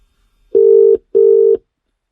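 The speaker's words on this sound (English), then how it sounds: "let's ring Joshua Cook, see what he's got to say." Telephone keypad dialing tones as a call is placed: two loud, clean identical beeps, each about half a second, separated by a short gap, with no voices.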